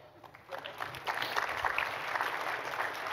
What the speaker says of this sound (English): I think y'all ought to give Lois a round of applause.